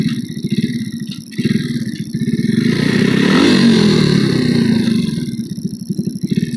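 A Honda Win motorcycle engine revs in neutral up close, a loud throbbing idle that rises into a sustained rev around the middle and then drops back to a rapid, pulsing idle.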